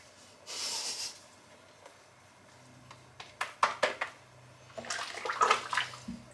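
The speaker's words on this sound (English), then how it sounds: "I'm going to squeeze the excess out of the brush here." Water squeezes out of a soaked shaving brush at close range, giving a short hiss and then several wet, splashy squirts and drips in irregular bursts.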